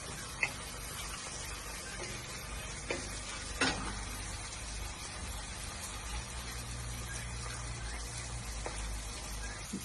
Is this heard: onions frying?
yes